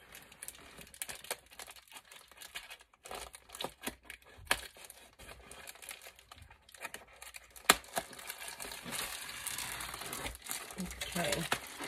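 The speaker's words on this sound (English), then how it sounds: "Let me take the scissors." Crinkly paper rustling and scissors snipping a paper envelope, close up, with scattered sharp cuts building into steadier cutting near the end, beneath quiet voices.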